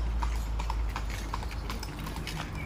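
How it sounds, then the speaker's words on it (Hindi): Horses carry riders along an outdoor tourist path where toy trains also run. The clip-clop of hooves comes in a quick, fairly steady rhythm over a constant outdoor rumble. "कुछ लोग घोड़े पर भी सवारी ले रहे हैं"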